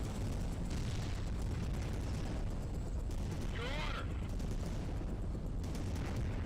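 A grenade launcher fires amid battlefield combat in the World in Conflict strategy game, with dull bursts and a rising whine over a low, continuous rumble of distant fighting.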